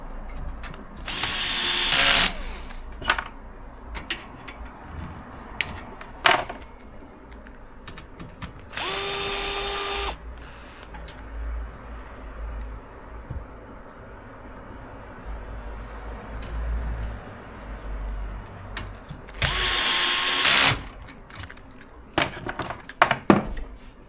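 A power screwdriver drives screws during assembly of a PC case, giving three loud bursts of a few seconds each near the start, middle and end, with quieter handling clatter between them.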